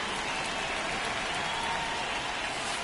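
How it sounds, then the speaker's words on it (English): Rain falls steadily on a baseball field in a video game, a constant hissing wash at moderate level with no distinct drops standing out. "the field's not going to be able to hold up if the rain gets any worse than this"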